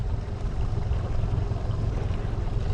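New Mercury four-stroke outboard boat engine idling around 630 to 650 RPM: a steady, low, rumbling drone with wind and water noise, constant and fairly loud throughout.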